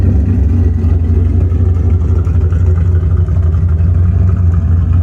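A 1979-2004 Ford Mustang with BMR rear lower control arm relocation brackets on a test drive, its engine a loud, steady low rumble heard from inside the car, with no talk.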